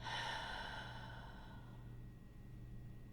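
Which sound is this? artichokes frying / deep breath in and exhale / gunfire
deep breath in and exhale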